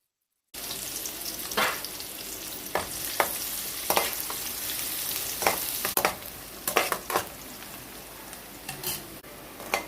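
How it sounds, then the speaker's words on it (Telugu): Thinly sliced onions frying in oil with dried red chillies for sorakaya pappu, a continuous close sizzle broken by repeated scraping clicks of a spatula stirring the pan, no talking. "ఇప్పుడు ఇందులో ఉల్లిపాయలు వేస్తున్నాను. సన్నగా తరుక్కున్న ఉల్లిపాయలు."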